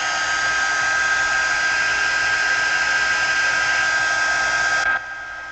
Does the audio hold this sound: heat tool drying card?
yes